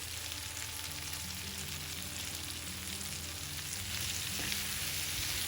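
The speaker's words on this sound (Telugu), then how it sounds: "మొత్తం ఒకసారి కలుపుకుని మూత పెట్టి 2-3 నిమిషాలు వేగనివ్వాలి" Potato and capsicum frying in a pan, with a dense, even crackling sizzle that holds steady and grows slightly louder toward the end, with no voices.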